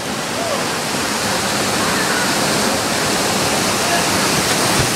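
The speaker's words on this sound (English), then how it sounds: "So they're gonna throw this rock at the freaking waterfall." A waterfall in Mexico roars as a dense, constant rush of falling water, loud and close, with no other sound breaking through.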